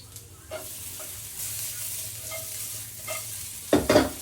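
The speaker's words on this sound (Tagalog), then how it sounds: "sutayin na natin yung garlic and onion. Olive oil ulit." Garlic and white onion sauté in olive oil in a pan, giving a soft continuous sizzle with a few light stirring scrapes and a louder burst of frying near the end.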